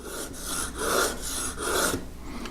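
A plane blade is rubbed on a sharpening stone to raise a burr, giving several rhythmic rasping strokes, close and fairly quiet, with no voices.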